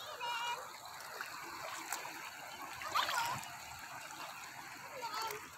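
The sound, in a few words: strong flood water current flowing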